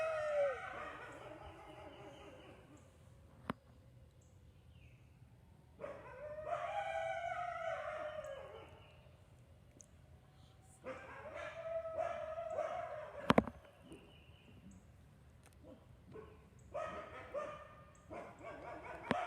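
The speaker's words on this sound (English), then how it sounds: "We actually have a lot of people asking why they're howling" Red wolves at a zoo howling in rising and falling wavering calls, several voices overlapping in long drawn-out phrases with short gaps, moderately distant.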